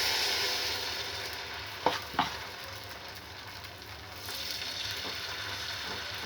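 Onion uthappam batter sizzling steadily on a hot tawa, a soft continuous frying hiss with a couple of brief sharper crackles and scraping touches, no talking.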